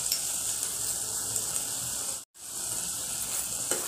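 Bengali-style vegetarian banana stem (thor) frying with sugar and salt in a pan, a steady close sizzle running throughout, broken by a brief silent gap midway before resuming.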